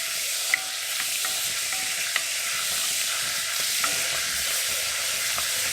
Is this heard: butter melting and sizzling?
yes